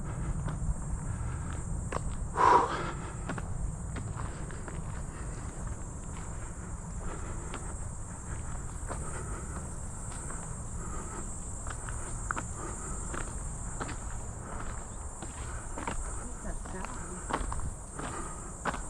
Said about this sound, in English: Oh, the little buzz? Yeah. Probably the insects.